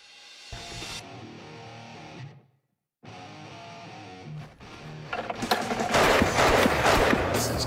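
A rare Nepalese machine gun with a pan magazine, firing Martini Henry ammunition, lets off a loud rapid burst of shots near the end after quieter sounds and a brief silence.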